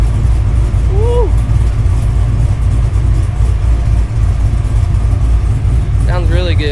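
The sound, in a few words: 6.0 Chevy Silverado with new exhaust and cam revving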